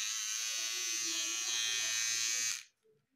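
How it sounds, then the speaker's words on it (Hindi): A plugged-in electric trimmer hums in a steady, loud, bright buzz for about two and a half seconds, then cuts off abruptly, leaving near silence with a faint low murmur. It runs from a homemade one-pin extension board. "आप देख सकते हैं यहाँ पर लाइट जल रहा है और ये ट्रिमर भी चालू है।"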